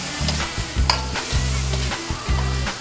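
Pork and plenty of tomatoes sizzle in a pan, broken by several distinct stirring scrapes in a steady rhythm, close and fairly loud.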